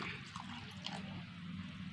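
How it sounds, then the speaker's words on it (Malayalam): Water poured into a bowl of coarsely ground rice batter for Kerala-style appam gives a faint, steady watery rush that runs unbroken for about two seconds. "ഇനി നമുക്ക് ഇതിനകത്തോട്ട് വെള്ളം ഒഴിക്കാം"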